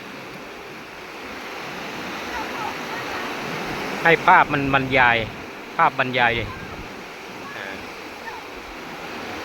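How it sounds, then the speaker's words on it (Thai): Steady ocean surf rushes continuously in the background while someone briefly speaks over it midway through. "ให้ฟังเสียงธรรมชาติของคลื่นทะเลนะ"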